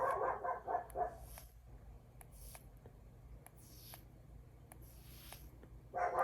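A dog barks indoors in a quick burst of several barks near the start, then sharp faint clicks and soft rustles follow before another brief bark at the end.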